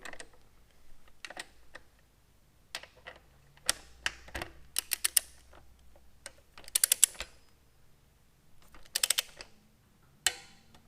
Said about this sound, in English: We're going to use our torque wrench, tighten to about 35 pound-feet of torque.